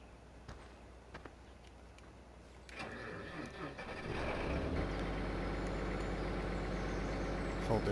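A truck engine in the Farming Simulator 2015 game idles low, then revs up around the third second and settles into a loud, steady drone, with brief clicks and a faint voice early on.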